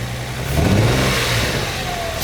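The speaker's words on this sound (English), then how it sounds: "Oh, that exhaust sounds nice." The exhaust of an engine-swapped Nissan 350Z rises into one strong rev close by, then settles back to a loud, steady idle.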